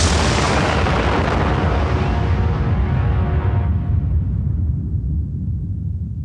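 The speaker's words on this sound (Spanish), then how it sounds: "la primera explosión atómica tiene lugar en el desierto de Nuevo México" A massive explosion from the first atomic bomb test in the New Mexico desert, a loud, sustained roaring rumble with no pause that fades slowly over several seconds.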